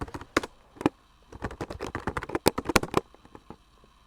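Quick bursts of keystrokes clatter on a computer keyboard, close and crisp, with short pauses between runs of typing.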